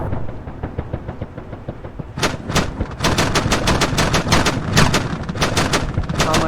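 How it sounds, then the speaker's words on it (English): Rapid cannon fire from a vehicle in Arma 3 during a 1994 First Chechen War mission around Grozny's central station, sharp repeated bursts of loud shots starting after a quieter rumbling lead-in, then continuing in tight clusters. "Put a couple of shots in there with your cannon"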